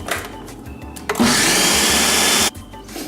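An electric mixer whirs loudly for about a second and a half, blending Brazilian coconut cake batter after baking powder is added, with quieter kitchen clatter before and after.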